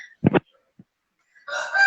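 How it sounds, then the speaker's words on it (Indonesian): Chickens vocalizing close by, a couple of short honking clucks at first, then a louder, sustained burst of squawking near the end, with a quiet gap in between. "Teman-teman sebelumnya maaf ya karena suara ayam."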